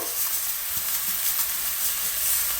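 Food simmering in a pan over low heat, a steady soft sizzle and hiss with faint stirring clicks, close and continuous.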